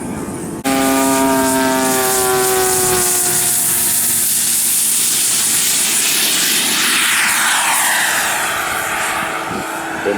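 A large radio-controlled Air World ME262 model jet flies at an RC airshow in Goshen, a loud turbine whine with a steady tone that swells and then pulls away as it passes, alone with no talk.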